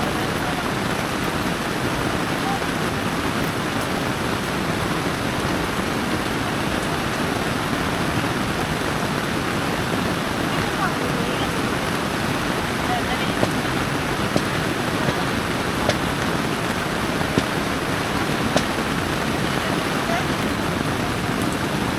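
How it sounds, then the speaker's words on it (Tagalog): Rain pours down heavily and steadily, a dense, hissing wash of noise that never lets up, with occasional faint pops and drips. "Summer na summer, lakas ng ulan."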